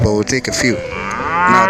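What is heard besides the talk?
cow mooing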